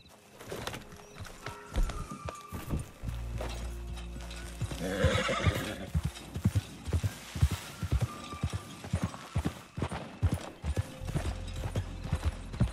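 A horse gallops in the Red Dead Online video game, its hooves drumming a fast, rhythmic clip-clop that starts up and keeps going, while a loud whinny rises in the middle and faint mechanical clicks and rattles sound alongside.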